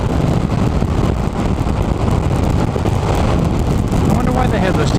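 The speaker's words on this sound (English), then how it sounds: "And yes, it's still horribly windy." Strong wind roars and buffets against the microphone in a dense, continuous rumble, loud and close, likely heard from a car on a road trip.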